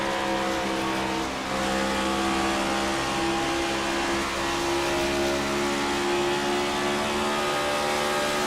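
Race car downshifting on an oval track during a racing series event, a loud, continuous engine roar with shifting pitch and revving as gears drop, other cars droning close by.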